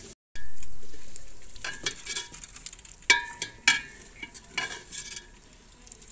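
Spices sizzle and crackle in hot oil, with a steady frying hiss, scattered sharp pops and occasional clinks of a utensil stirring the pan.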